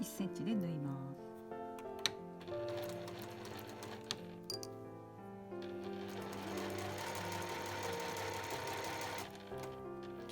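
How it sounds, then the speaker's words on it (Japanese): A sewing machine stitches the bottom seam of a lined shoulder bag with a caramel-colored base, sewing at a 1 cm seam allowance. The close, rapid mechanical whirring runs in bursts with brief pauses and soft clicks, over faint background tones. "はい、そうしたら底の部分を1センチで縫います。"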